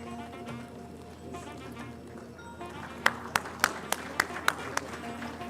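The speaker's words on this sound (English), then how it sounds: "Keep clapping." Audience applause at a medical academy convocation ceremony, heard as a series of sharp, spaced claps standing out above a murmuring hall with a voice speaking over it.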